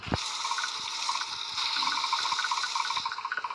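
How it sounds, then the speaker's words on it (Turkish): Hot water gushing out steadily in a continuous rushing flow, with a slight rhythmic splashing pulse toward the end and no talk. "Bakın sıcak sular çıkıyor oradaki"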